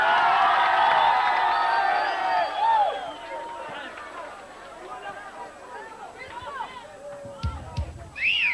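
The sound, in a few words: applause and cheering for a band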